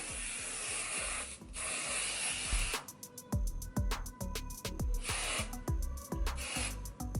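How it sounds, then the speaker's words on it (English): Bursts of hissing aerosol spray alternate with rhythmic clicking and rubbing sounds, close and fairly loud, with no talking. "So you get your hairspray, spray it all over."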